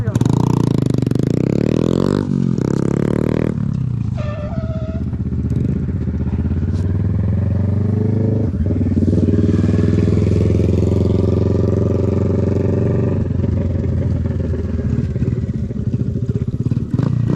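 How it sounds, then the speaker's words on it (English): Kawasaki Z650 motorcycle engine revving while riding at night, a steady loud drone with rising and falling pitch that stays continuous throughout, with no pauses between revs. "Listen to my motor whenever I go."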